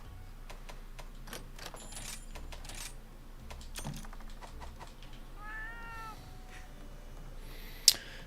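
A cat in a video game lets out one short, clear meow partway through, set against quiet game ambience, scattered light clicks and a sharp tap near the end.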